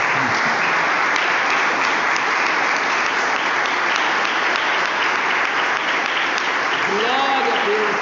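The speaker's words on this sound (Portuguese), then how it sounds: "vamos atributar ao Senhor uma linda salva de palmas" A church congregation applauds in praise, a thick, continuous wash of clapping that holds at full strength throughout, with a voice calling out faintly near the end.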